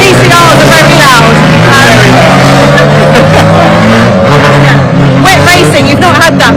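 Loud TCR touring race cars racing at Croft, their engine roar droning steadily throughout with shifting pitch sweeps as cars pass, while people talk over the noise.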